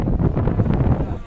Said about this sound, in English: Today it's a little windy.